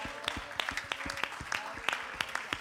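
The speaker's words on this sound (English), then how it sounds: "Let's just begin to just clap our hands" Rhythmic hand clapping from a church congregation during worship keeps a steady beat, moderately loud, with a murmur of voices underneath.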